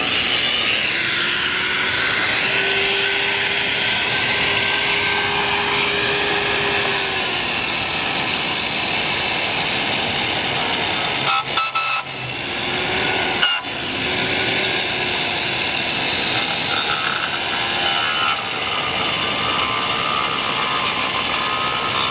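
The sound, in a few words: 7-inch angle grinder grinding out brick mortar joints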